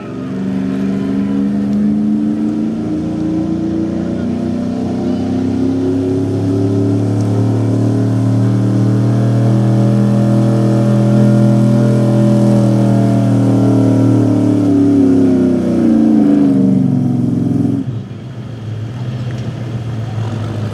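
A gas 4x4 pickup truck engine revs hard and climbs steadily during a truck pull, loud and sustained for many seconds before abruptly dropping off, with faint crowd or announcer voices underneath.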